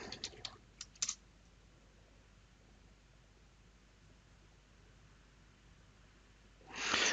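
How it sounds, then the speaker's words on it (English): Typing a command on a computer keyboard, a quick cluster of crisp key clicks at the start and a heavier burst of keystrokes at the end over a quiet steady hiss, close and alone. "I'm just going to type in reboot."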